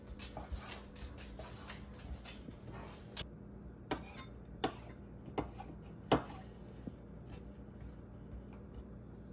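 Knife chopping fresh razor clams on a cutting board with scattered taps and clinks of kitchenware, irregular and fairly quiet against a steady background hum.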